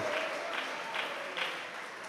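A church congregation claps along during a worship service, making soft, rhythmic bursts of many hands at roughly half-second intervals, fairly quiet and distant, with a faint tone held underneath.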